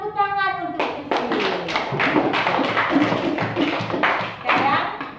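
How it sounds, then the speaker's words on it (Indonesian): Children clap together in a classroom at a teacher's prompt, a steady burst of handclaps following a short stretch of speech and continuing for several seconds. "Tepuk tangan untuk Sisil"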